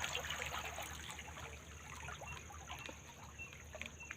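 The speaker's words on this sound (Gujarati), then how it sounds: "પાણીની જરમ મોટી બનાવેલી છે અને અજમામાં પાણી હાલે છે" Irrigation water running along a field channel into an ajwain crop, a faint steady trickling and burbling flow heard at a distance with a low background hum and no talking.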